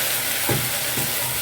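Small fish (indagara) fry in a cooking pot, giving a continuous close hiss with two faint stirring scrapes, and no talk.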